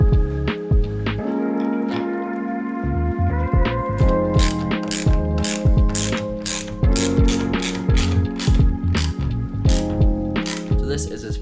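Ratchet tightening a pinch bolt on motorcycle handlebar risers of a Royal Enfield GT535, rapid close clicking in repeated bursts of strokes, loud and steady throughout.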